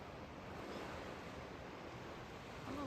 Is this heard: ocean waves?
yes